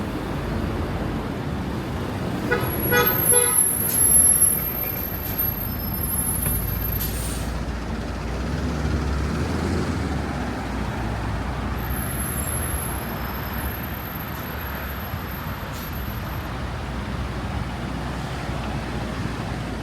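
Steady roar of city street traffic in Seoul, with vehicles passing close, a heavy engine rumble and a brief hiss like a bus or truck air brake early on, and no voices.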